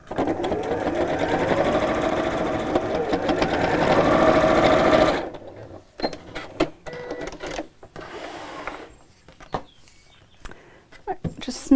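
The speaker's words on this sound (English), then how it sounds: "just going to sew down both sides of these" A sewing machine stitches down both sides of the straps on a child's shirred dress, buzzing loud and steady for about five seconds, then stopping, followed by scattered handling clicks and rustles.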